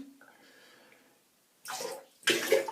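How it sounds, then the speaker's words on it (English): Shaving brush lifted out of water in a sink, giving two short bursts of dripping and splashing water with a quiet gap between them. "let's get this brush out of the sink"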